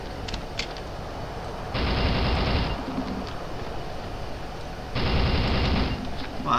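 A TMP submachine gun fires in the video game Soldier of Fortune, with two loud sustained bursts of rapid fire separated by quieter game ambience.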